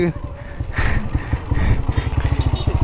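A Royal Enfield Bullet motorcycle engine thumps with a fast, even low pulse close by, its rhythm rising slightly toward the end.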